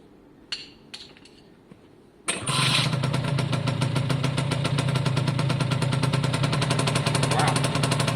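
Suzuki AP50 two-stroke engine with a freshly cleaned carburettor, a few faint attempts and then a sudden start into loud, rapid, steady buzzing running close by with no talk over it.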